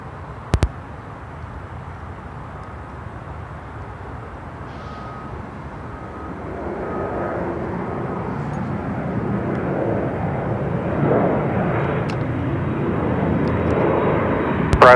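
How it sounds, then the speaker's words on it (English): An Alaska Airlines jet takes off from runway 34 right at Seattle-Tacoma airport, its engine roar building gradually from a low rumble to a sustained loud rush, heard from a distance without talk. "Alaska 2, runway 34 right, cleared for takeoff"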